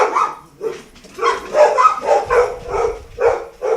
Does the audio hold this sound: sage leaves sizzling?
no